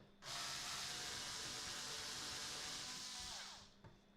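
A power screwdriver whirs steadily for about three and a half seconds while backing out one of the screws holding a laptop hard drive, close and fairly quiet, then winds down.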